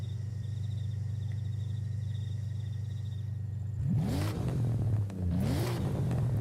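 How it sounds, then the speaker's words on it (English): An inline-six engine on a 2.5 GT four-door family sedan in Forza Horizon 5 starts as a steady low idle hum, then revs sharply twice, each rise sweeping up and settling back. "Dude, that sounds like an inline 6."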